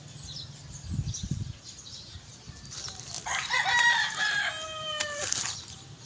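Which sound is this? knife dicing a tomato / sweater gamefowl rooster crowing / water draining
sweater gamefowl rooster crowing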